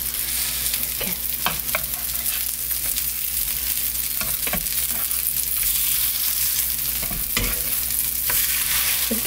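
Egg-coated meat patties sizzle and fry in a pan for Korean jeon, a steady crackling hiss broken by occasional sharper pops and utensil taps, close and continuous with no talk.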